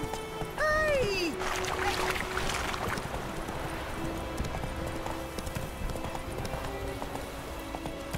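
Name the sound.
horse Roach hooves clip-clopping, from a video game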